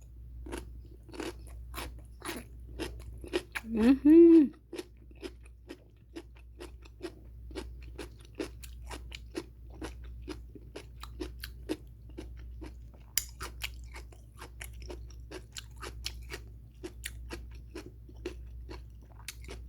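Crisp, close crunching as radish water kimchi (nabak kimchi) is chewed, a steady series of sharp bites and crunches continuing throughout, with a brief hum of approval early on.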